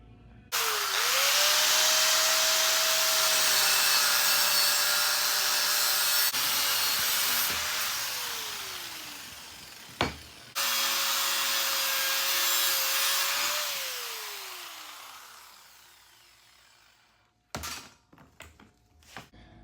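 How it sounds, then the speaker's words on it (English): A Harbor Freight 6-inch cutoff wheel grinder cuts through a thick steel cross member, a loud sustained whine that dips in pitch under load in two long passes, with a brief pause between and clanks as it winds down. "this is a Harbor Freight cutoff wheel or 6-inch grinder"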